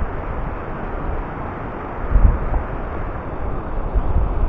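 Strong gusting wind buffets the microphone at a seaside beach in Anapa after a storm, a steady broadband roar with a louder gust midway and no speech.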